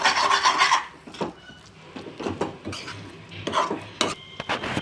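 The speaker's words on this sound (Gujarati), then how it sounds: "હવે આપણે ફ્રેન્ડ્સ બધું મિક્સ કરી લેશું" A spoon scrapes and rasps through vegetables in a pan as pav bhaji masala is mixed in, irregular close scraping strokes with clinks against the metal and no talk.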